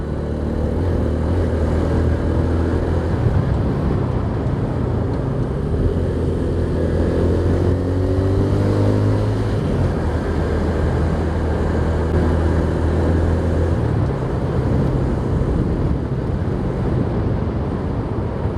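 A custom SND-block motorcycle fitted with FCC clutch plates idles and revs unevenly as the clutch is pulled and released while riding, a loud continuous engine drone with rising and falling surges.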